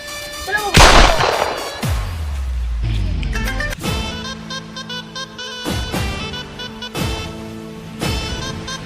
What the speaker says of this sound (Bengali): কোথায় একটা বন্ধুদের গুলির আওয়াজ পেলাম